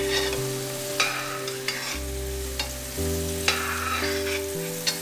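Mushrooms frying in ghee in a kadhai, with a steady close sizzle, a few stirring scrapes and clinks, and a low hum underneath; no one speaks.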